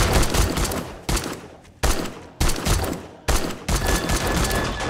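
Heavy gunfire in 7 Days to Die, several dense, loud volleys separated by brief gaps, each burst roaring and sustained rather than single shots.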